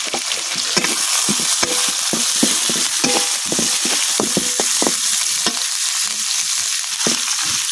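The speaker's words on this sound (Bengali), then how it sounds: "এখন আমি চিংড়ি মাছটা কিছুক্ষণ বাজালাম।" Shrimp frying in a pan over onion, ginger and garlic, a steady broadband sizzle with frequent sharp clicks and scrapes of stirring, close and continuous with no talk.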